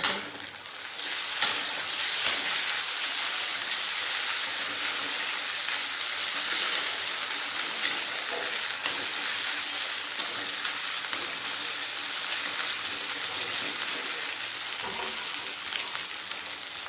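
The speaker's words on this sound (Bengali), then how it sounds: "পেঁয়াজটাই অনেকটাই ভাজা ভাজা হয়ে গেছে" Continuous crackling sizzle of onions frying in hot oil, close and steady throughout, with small pops scattered across the sound.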